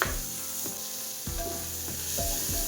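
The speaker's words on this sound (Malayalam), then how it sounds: "ഇനി ഇതിലേക്ക് ചെറുതായിട്ട് കട്ടാക്കി വെച്ച് തക്കാളി ഇട്ടിട്ട് നല്ലോണം മിക്സാക്കാം" Chopped tomatoes tumble into onions frying in a pan and get stirred, a steady close sizzle broken by several soft scraping strokes of the spoon at an even pace.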